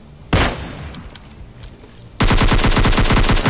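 Automatic gunfire from PUBG Mobile Lite: one loud single shot near the start, a lull, then a sustained rapid burst of close, evenly spaced shots to the end.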